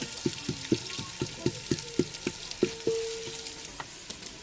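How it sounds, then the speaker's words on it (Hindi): Long-sliced onions fry in a pan for chicken nihari, a soft sizzle under a string of about a dozen regular taps and clinks from stirring, fairly close with no talk. "प्याज लंबा लंबा काटना है और ये डाल देंगे। अभी इसको ब्राउन कर लेंगे"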